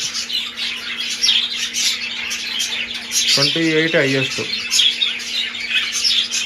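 Birds chirp and tweet repeatedly throughout on a mild day in Bangalore during breeding season, with bright calls scattered near and far while someone speaks briefly over them partway through.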